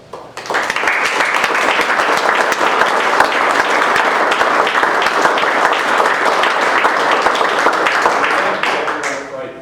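An audience at a celebration of life for a fallen warrior breaks into long, sustained applause, loud and dense throughout with a crowd's many overlapping claps, before tapering off abruptly at the end.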